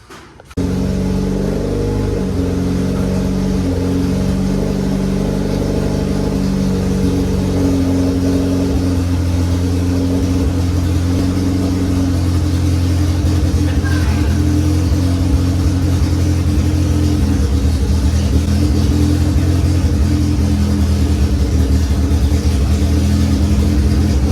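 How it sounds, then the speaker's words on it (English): A budget all-wheel-drive Honda Civic revs hard and holds a loud, steady engine drone while its wheels spin, the sound close and continuous with no talking. "let's fire this baby up, see these wheels spin"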